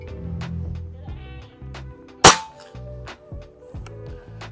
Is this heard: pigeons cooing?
no